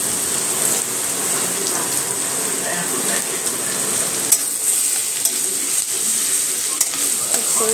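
Crushed garlic frying in hot oil in a pan with green chillies, a steady loud sizzle with scraping stirring strokes throughout, no talking.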